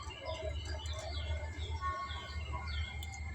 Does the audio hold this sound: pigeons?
yes